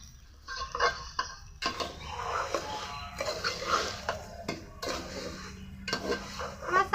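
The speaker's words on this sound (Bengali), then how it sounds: "অনবরত নেড়ে নেড়ে চালগুলো ভেজে নিতে হবে।" Rice for mutton biryani is stirred while frying in a pan, with repeated scraping and clinking of a utensil against metal in irregular bursts, close up and alone.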